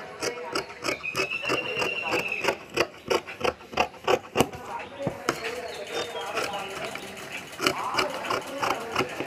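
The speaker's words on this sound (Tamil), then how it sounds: "இதே அளவு வச்சு நாம் வந்து வெட்டிக்கிறோம்." Scissors cutting fabric for a lined churidar top, a close series of crisp snips and rasping cuts in uneven rhythm, with soft rustling of cloth between them.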